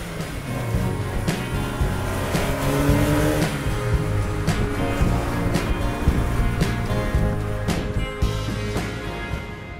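An old Opel Kadett's engine drones steadily and loudly throughout, with a rough, continuous rumble and no voices.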